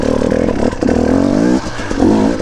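An enduro dirt bike grinds over technical rocky ground. Its engine revs up and down in quick surges, with clattering and scraping as the wheels catch on the rocks, loud and close.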